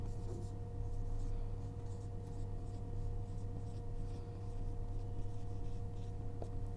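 Steady scratching of a pen or marker writing out maths working on paper or a board, close and continuous over a constant electrical hum, with no talking.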